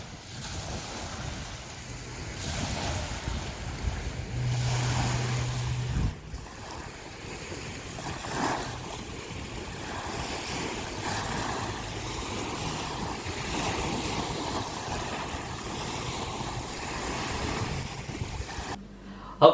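Ocean waves roll onto the shore in a continuous soft wash, with wind noise buffeting the microphone throughout and no voices.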